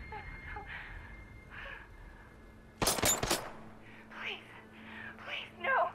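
A short, loud burst of rapid gunfire in Batman: Arkham Knight breaks through quiet game speech and whispered voices, then fades back to talking.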